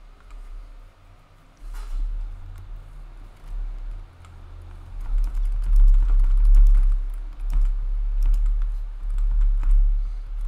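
Keys clatter on a computer keyboard in irregular bursts of typing, close and fairly soft, getting busier and louder in the second half with no speech.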